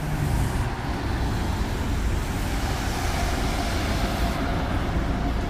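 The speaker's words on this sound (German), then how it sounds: "Nehmen wir erstmal diesen schönen Citaro mit, wie er hier reinfährt." A Mercedes Citaro city bus rolls in with a steady low engine rumble and road noise, continuous and fairly close, with no talking.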